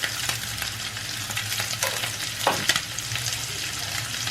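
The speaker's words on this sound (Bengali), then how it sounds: "চিংড়ি মাছ ভাজার সময় ভালো করে ধুয়ে নিয়ে জলটা চিপে প্লেন আগে তেলের মধ্যে ছাড়বে।" Prawns sizzle and fry in hot oil with turmeric, a steady close crackle running throughout with brief stirring scrapes and a louder spatter near the middle; no talking.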